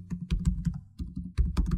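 Typing on a computer keyboard while writing code in a Python editor, a steady run of close, crisp key clicks with a brief pause midway, no talk.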